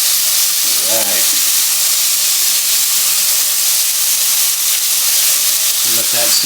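Chicken fried rice with leftover chicken sizzling in a hot pan, a loud, constant hissing fry close by, with brief low murmurs of a voice near the start and end.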